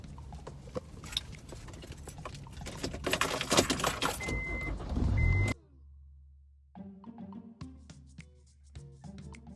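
Keys jangle and clink loudly at close range while a door is locked, a busy metallic rattling that stops abruptly, followed by quieter scattered clicks and clinks.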